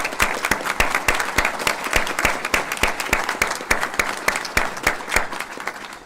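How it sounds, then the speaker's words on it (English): An audience at a board of trustees meeting applauds, a dense, steady round of many hands clapping at once, held at an even, lively level for several seconds with no speech over it. "we ask for you to receive a round of applause"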